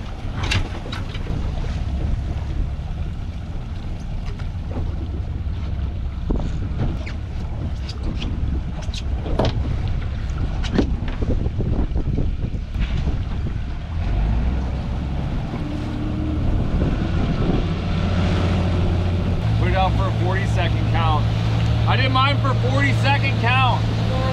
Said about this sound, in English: Check out this boat that's coming through.